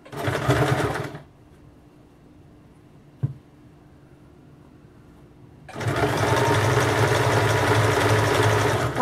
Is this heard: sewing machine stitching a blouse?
yes